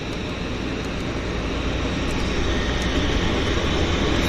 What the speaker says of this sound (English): I hear other airplanes starting engines too